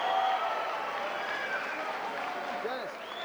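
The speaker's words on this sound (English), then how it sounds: "Woo, crowd's into it." Crowd noise at a live fight event, a steady roar of cheering and applause that holds at a moderate level throughout, slightly distant.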